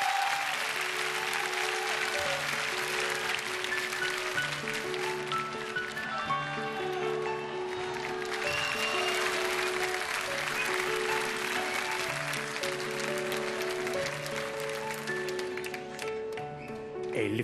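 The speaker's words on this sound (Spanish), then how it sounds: "Un aplauso fuerte." Live concert audience applauding for a singer, with sustained clapping and crowd noise mixed under steady music with held tones throughout.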